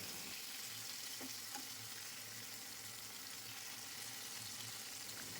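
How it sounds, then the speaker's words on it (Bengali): Prawns frying in oil in a frying pan give a continuous, fairly quiet hiss of sizzling that holds steady throughout, with no voices. "এখন চিংড়ি মাছ ভাজা হয়ে গেছে, চিংড়ি মাছ ফ্রাইং প্যান থেকে তুলে রাখবো।"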